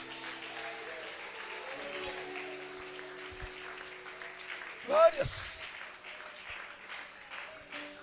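A church congregation claps their hands during a sermon while a preacher keeps speaking over them. There is a brief louder burst partway through.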